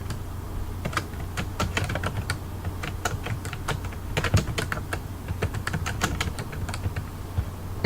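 Rapid keystrokes on a computer keyboard as a report title is typed, crisp clicks in quick irregular bursts, close and clear over a faint steady hum, with no voices.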